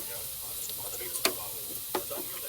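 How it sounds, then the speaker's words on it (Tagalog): Garlic and onion sautéing in a pan while corned beef is being prepared, a soft steady sizzle with a couple of sharp utensil knocks and stirs against the pan, close by. "Butang na ako ang ahos bombay."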